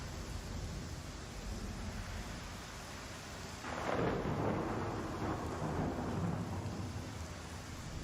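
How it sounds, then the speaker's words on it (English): Lightning strike followed by rolling thunder in the space game Star Citizen, a steady rainy hiss that swells into a loud crackling rumble midway and lingers. "Oh, look at the lightning strike."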